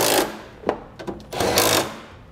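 Screws are driven back into the air box of a 2012 GMC Savana van with a power driver, heard as short whirring bursts with brief pauses between them, close and fairly loud.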